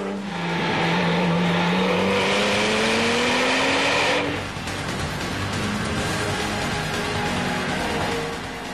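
A Porsche 911 GT2 races on the Nürburgring, its engine howling loudly and climbing in pitch under hard acceleration, then a gear change and another sustained high-revving run.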